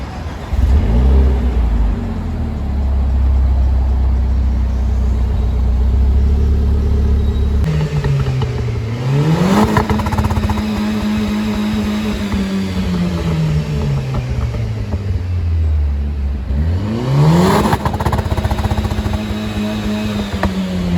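Renault Clio RS 200 with a 1.6 turbocharged inline-4 and dual-clutch EDC gearbox, revving hard alone: a steady loud rumble climbs through two sweeping rises and falls, with sharp pitch jumps at gear changes around the middle and end.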